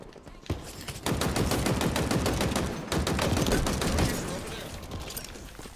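Commando rifle fire rattles in Halo Infinite multiplayer: dense rapid bursts, then a short pause and another long loud volley that tails off.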